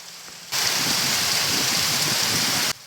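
Heavy rain pours down in a sudden dense hiss that starts abruptly, holds steady and loud for about two seconds, then cuts off.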